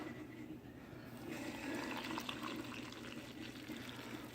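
Black and Decker coffee maker brewing, with soft gurgling and trickling of water into the carafe, faint and close over a low steady hum.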